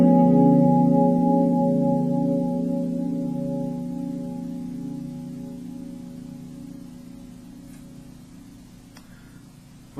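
A guitar sounds a single major 7 chord shape with an added flat 9, struck once near the start and left to ring, the warm chord slowly fading over several seconds with a few faint ticks at the end.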